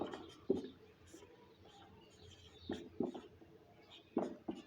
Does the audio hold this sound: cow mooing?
no